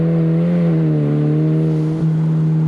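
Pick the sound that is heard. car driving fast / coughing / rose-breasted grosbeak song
car driving fast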